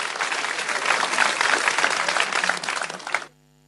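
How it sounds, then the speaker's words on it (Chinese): Audience applause at a Lunar New Year stand-up comedy livestream, a dense burst of many hands clapping that holds steady and then stops abruptly, leaving near silence. "掌声鼓励汉文来了"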